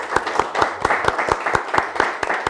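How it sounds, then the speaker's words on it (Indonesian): A studio audience claps for Raisa, a small group beating out a brisk, regular rhythm of sharp hand claps, close and moderately loud, without any talking. "tepuk tangan teman-teman untuk Raisa"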